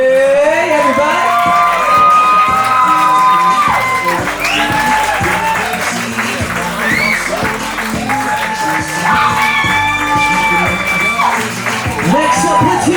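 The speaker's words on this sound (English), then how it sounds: "So y'all make some noise for Emily and Jeffrey, everybody!" Wedding guests in a garden cheer, whoop and applaud loudly as the wedding party is introduced, a dense continuous roar of crowd noise with shouting voices and whistles throughout.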